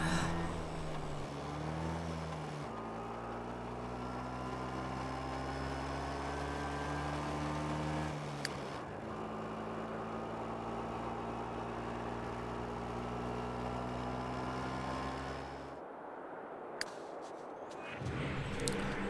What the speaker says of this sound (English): We've got a motorbike sound.